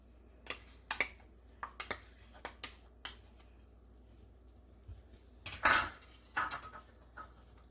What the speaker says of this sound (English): we're going to stir that in, and it's going to get nice and thick.